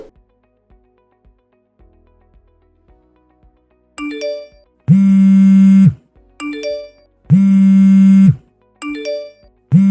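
A phone ringtone starts after a few quiet seconds as a loud melodic electronic tone, repeating in short bursts separated by brief gaps, close and alone.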